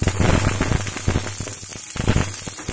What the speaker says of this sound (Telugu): ఆయిల్ ఒక స్పూన్ వేసాను వేడెక్కుతుంది ఇప్పుడు ఆవాలు జీలకర్ర మినపప్పు శనగపప్పు కరివేపాకు పోపు వేస్తున్నాను